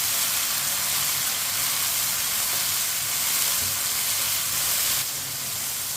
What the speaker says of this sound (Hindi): टमाटर को भी 1 मिनट के लिए पका लेंगे।